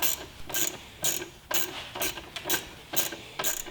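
A ratchet with a gimbal socket loosens throttle body bolts on a Jeep Compass, giving a close, rapid series of about eight evenly spaced clicking bursts.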